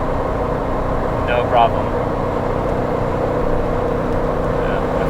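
Supercharged Jeep Wrangler JK Unlimited engine (RIPP Gen II Stage II) pulling steadily up a mountain incline in 5th gear, a constant low drone with road noise, while someone talks briefly over it.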